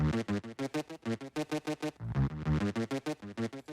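A beat-battle instrumental with the Output Thermal plugin removed plays drier, with a pulsing kick and choppy chord stabs that dip rhythmically, shifting to a fuller swell of low notes midway.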